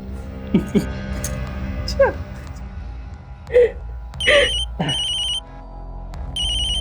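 An electronic phone ringtone chimes in repeated bursts, mixed with whimpering, yelping sounds and a voice in the background.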